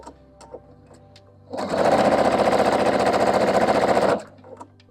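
A sewing machine runs in one sustained, rapid burst of stitching on quilt pieces for about two and a half seconds, loud and near, with quiet handling before and after.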